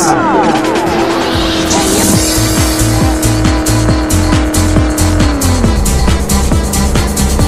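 A lowered car cruises in the Brazilian game Rebaixados Elite Brasil, its engine droning steadily with shifting revs and a brief tire squeal, loud and continuous with music-like tonal layers.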